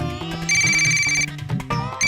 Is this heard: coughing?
no